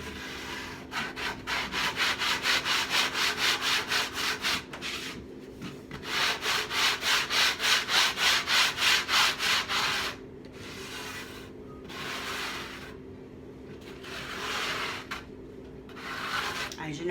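A faux granite painted finish gets a light hand sanding, rhythmic back-and-forth rasping strokes in two quick bursts, then slower scattered rubs, close and alone.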